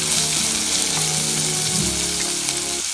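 Chopped green chillies and onion fry hard in an oily pan, a loud steady sizzle with a dense crackling hiss running unbroken throughout, no voices.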